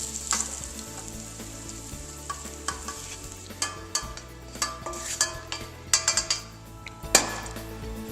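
Bulk sausage sizzles and fries steadily in a pan while a utensil stirs and scrapes, with clattering knocks against the pan throughout, close and fairly loud.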